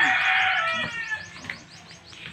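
Pigeons in a loft, a close, loud bird call with warbling, chirping tones that trails off into softer repeated cooing notes.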